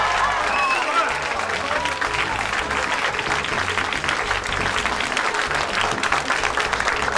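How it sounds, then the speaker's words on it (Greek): Audience applause for the performers on a Greek Christmas TV show episode, a steady dense wash of clapping that holds at full level throughout, with some talk mixed in beneath it. "Ένα χειροκρότημα και για τα παιδιά"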